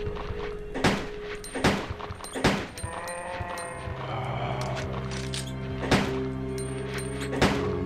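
Five sharp gunshots ring out from a handgun in the PS1 game Resident Evil 2, spaced irregularly over a low, steady background hum.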